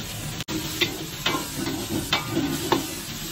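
Pea eggplants stir-fried in curry paste with garlic, shallots, kaffir lime leaves and turmeric over medium heat, giving a close, steady sizzle with rhythmic scraping stirs and no talking.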